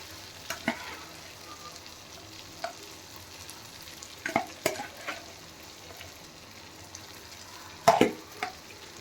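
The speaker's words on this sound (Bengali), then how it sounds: "একটু নেড়ে নেওয়ার পর এবারে আমি এই চিংড়ি মাছগুলো এর উপরে তুলে দেব।" Prawns fry in an oily masala in a pan, a continuous low sizzle punctuated by intermittent scraping stir strokes and a louder clatter near the end, close by and without talk.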